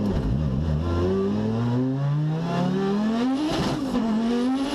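An old Audi S1 rally car driven hard: the engine revs climb and drop through gear changes, loud and close, with tyre squeal, a continuous roar with no voices.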